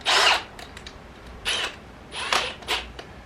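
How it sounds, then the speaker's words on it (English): Power drill with a 5/16-inch bit whirring in short bursts: four brief high-pitched spins separated by pauses, close and fairly loud. "you're gonna drill that right over top of the other hole you just drilled"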